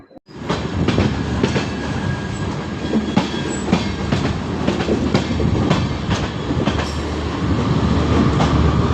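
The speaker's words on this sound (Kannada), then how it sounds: "ಡಬಲ್ ಡೆಕ್ಕರ್ ಎಕ್ಸ್ಪ್ರೆಸ್ ಜೊತೆಗೆ ನಮ್ಮ ಟ್ರೈನು ಡಿಪಾರ್ಟ್ ಆಗ್ತಿದೆ" A MEMU express train pulls out of KSR Bengaluru City station alongside a double-decker express, with steady rolling rumble and repeated clickety-clack wheel beats over rail joints, growing slightly louder as it gets under way.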